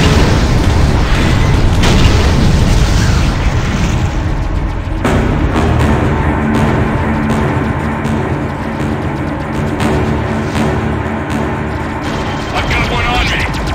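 Heavy, booming explosions from torpedo strikes in the space combat game Freelancer roll on continuously with dense rumble and crackling debris. A spacecraft engine drones steadily underneath and distant radio chatter runs through.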